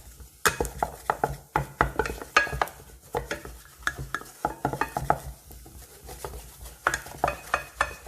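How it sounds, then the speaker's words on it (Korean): A utensil scrapes and clatters against a pot while stir-frying beef stew ingredients, making irregular metallic strokes with a faint sizzle underneath. Nearby and fairly loud. "벽면도, 냄비의 벽면도 긁어가면서 볶아주시고."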